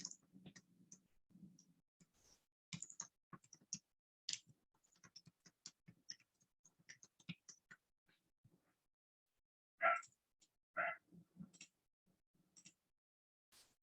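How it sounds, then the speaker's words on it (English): Light clicks of typing on a computer keyboard, faint and close, in irregular short bursts with pauses between keystrokes, a few louder taps near the end, no talking. "just type something"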